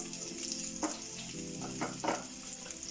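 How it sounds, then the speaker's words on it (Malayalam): Mustard seeds and onions fry in a hot pan, making a steady close sizzle with occasional louder pops and crackles as the seeds burst. "ഈ സൈഡിൽ നിന്ന് കടുക് പൊട്ടുമ്പോഴേക്കും നമുക്കിവിടെ ഉള്ളി ഇട്ട് കൊടുക്കാം."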